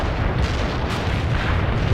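An artillery barrage in the World in Conflict war game delivers dense, loud overlapping booms and rumbling blasts that roll continuously without pause, with no speech.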